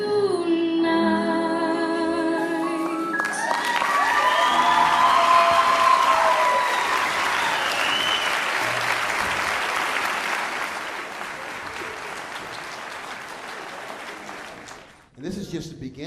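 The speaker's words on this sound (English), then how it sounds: "How about another round of applause for jazz?" A school winter concert audience breaks into loud, sustained applause with some cheering after a jazz number, the final sung notes fading into the clapping before it dies away.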